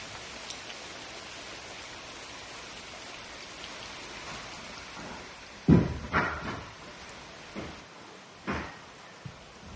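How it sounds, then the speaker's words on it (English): Rain falling on a building site as a storm moves in: a faint, steady hiss of light rain, broken in the second half by several sharp knocks and bangs at irregular intervals. "because it's starting to rain"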